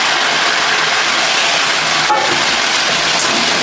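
Green peas tipped into hot oil with fried cumin seeds, giving a loud, steady broadband sizzle that holds evenly throughout with no pauses.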